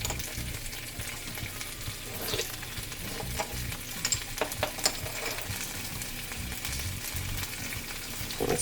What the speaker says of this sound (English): So then I fried them in some oil